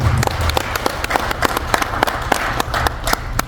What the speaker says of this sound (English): Please can we give another round of applause for our president.